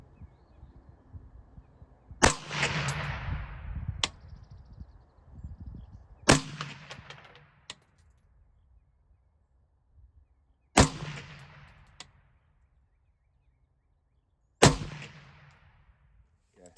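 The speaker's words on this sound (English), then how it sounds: "All right, so me firing quickly." Rifle shots fired outdoors, four loud sharp reports spaced a few seconds apart, each followed by a rolling echo tail, with quiet between them and no talking.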